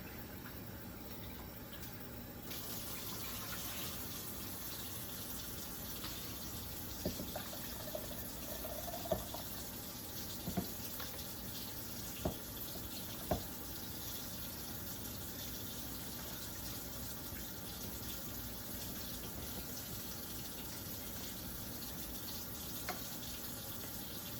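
Tap water runs steadily into a sink while rice water is rinsed out, a continuous close hiss with occasional faint clinks and knocks throughout.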